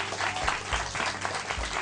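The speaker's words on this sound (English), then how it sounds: "give them a round of applause" An audience applauds in a brief, steady burst of clapping, moderately loud and without talking.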